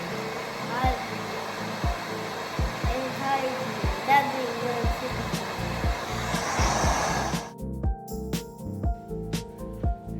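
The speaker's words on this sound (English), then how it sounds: "I start blow drying it" A hair dryer runs steadily on thick, long kinky hair, a constant close whoosh with rhythmic bumps as it moves, then cuts off near the end, leaving scattered handling knocks.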